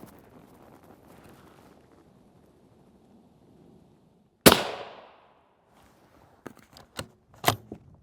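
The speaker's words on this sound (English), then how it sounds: "This shot I'm going to place right dead center on the star." A single loud, sharp gunshot struck at a Hesco 3402 polyethylene body armor plate from about 100 feet, followed by a decaying echo and a few fainter clicks and pops.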